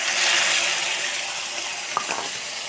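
Onion and garlic paste hits hot oil in a pan and sizzles steadily, a bright hiss with a faint clink near the end.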